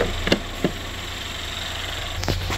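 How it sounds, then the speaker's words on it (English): A Chevy Equinox engine idles smoothly after a high-pressure fuel pump replacement: a steady, close low hum with a few brief knocks and clicks near the start and end. "Vehicle's running very smooth right now."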